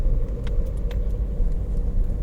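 A Renault Megane 2 diesel car with a hidden injection fault cruises at a steady speed. A constant low engine and road rumble fills the cabin, with a few faint light rattles and no talking.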